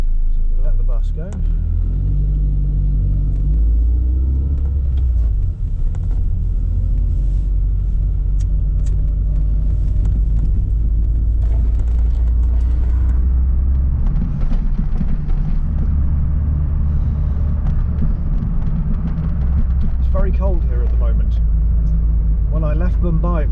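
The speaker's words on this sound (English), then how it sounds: "So we're going to let the bus go." A bus rumbles by on a town street in England, its deep engine drone filling the foreground for a long stretch while a person talks over it.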